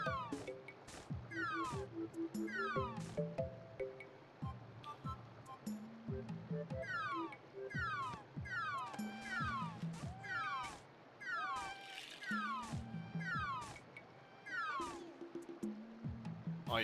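Repeated cat meows from the Pokemon Snap video game, a steady run of short calls spaced a second or two apart over game music and a washing, surf-like background.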